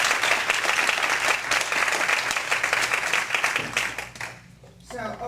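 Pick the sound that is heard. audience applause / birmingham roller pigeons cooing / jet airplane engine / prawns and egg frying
audience applause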